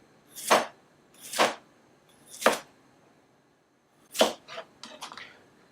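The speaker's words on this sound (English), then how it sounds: "we're gonna slice them about 1 centimeter thick." A knife slices food into pieces about 1 centimeter thick while roast chicken legs are being prepared. Four separate crisp cuts land close by at an even pace, then a quick cluster of lighter taps follows, with no talk.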